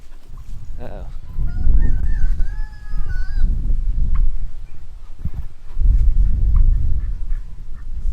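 Ducks quacking and honking in a series of nasal calls close by outdoors on a windy farm morning, over heavy low wind rumble and some clattering, with no talk.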